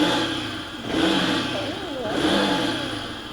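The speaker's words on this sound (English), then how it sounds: "probably the exhaust note if you don't like it, but it does sound good" A motorcycle engine rumbles and revs up and down in waves, its exhaust note throaty and steady, recorded close.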